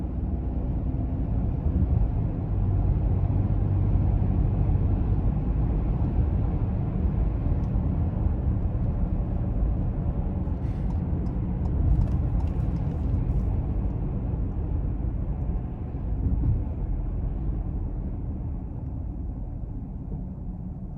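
A 2021 Ford Bronco Sport Big Bend pulling away from a stop, heard from inside as a low, steady engine and road rumble that stays even and dominant, with a faint brief clicking and rattling partway through.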